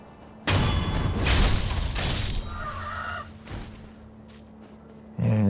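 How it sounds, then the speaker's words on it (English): A rooster enemy in Sekiro: Shadows Die Twice lets out a loud, harsh crow lasting a couple of seconds over game ambience, followed by quieter fluttering and a final thump. "There's a rooster, which is like the weirdest enemy in the game."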